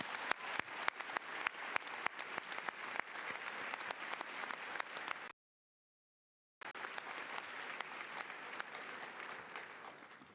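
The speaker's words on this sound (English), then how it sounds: "please give your parents a ringing round of applause" A convocation audience applauds the parents at a 2002 University of Washington freshman convocation, with dense, steady clapping filling the hall, broken by a brief gap before resuming just as strongly.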